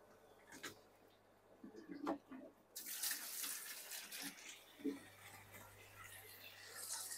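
Water pours into a home aquarium, a steady rushing splash that swells from about the third second and continues loud and close, with faint earlier trickles and a few soft knocks.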